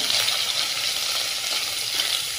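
Whole spices, cardamom, cinnamon, curry leaves and crushed ginger-garlic, sizzle steadily in hot oil in a pan for veg soybean keema, a close, continuous crackling hiss with no voices.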